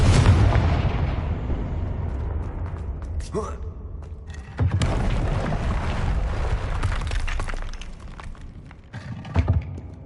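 The Confringo fire spell from the game Hogwarts Legacy bursts into loud, rumbling explosions with a sustained roaring blast, a sharp crack near the middle and another boom toward the end, with no talking.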